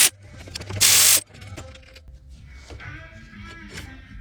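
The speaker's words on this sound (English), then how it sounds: "I have some amazing bracketry I gotta unbolt here." A ratchet unbolts 13mm bracket bolts during a Dodge Ram water pump replacement, giving quick close clicking bursts amid clanks and a loud rush of noise near the start.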